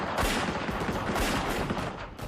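Gunfire from a reenacted shootout, handguns against a semi-automatic assault weapon, as a dense, continuous clatter of overlapping shots with no pauses, loud and sustained throughout.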